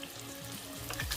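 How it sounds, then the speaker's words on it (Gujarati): Eggplant and potato sizzle and crackle in hot oil, a brief continuous frying hiss with no voices. "હવે આપણે રીંગણ બટેકાને આપણે વ્યવસ્થિત આપણે તેલમાં સાતળવા દઈશું"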